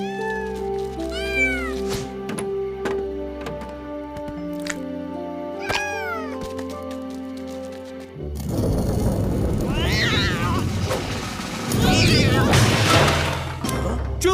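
A cat meows repeatedly in a cartoon scene, rising and falling cries spaced across the span, first over a tonal musical background, then over busier, louder mixed sound toward the end.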